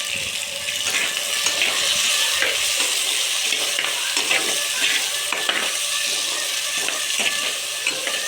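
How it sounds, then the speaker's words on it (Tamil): Tomatoes and onions sauté in a pan for a fish curry, giving a loud continuous sizzle with repeated stirring scrapes throughout and no talking. "தக்காளி போட்டுப்போம் தக்காளி நல்லா வதங்கணும்"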